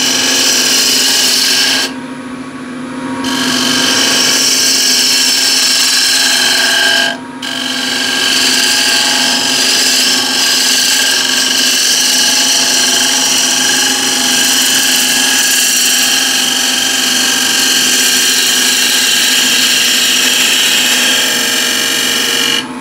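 A wood lathe spins a blank while an asymmetric ball gouge takes a shear cut, giving a loud, steady whirring cutting drone with two brief dips where the tool lifts off, and no voices.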